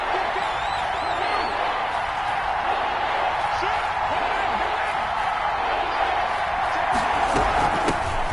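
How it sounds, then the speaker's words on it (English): Stadium crowd noise in an American football video game, a dense continuous roar and cheer swelling steadily, loud and close with commentary running over it. "Here comes a big one as this crowd gets up making some noise."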